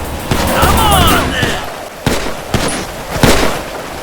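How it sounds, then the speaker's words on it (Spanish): Several sharp gunshots crack out at irregular intervals amid a busy, noisy GTA 5 game scene with whooshing effects and scattered impacts. "Art salió por patas de la casa de Michael, repelido por los disparos."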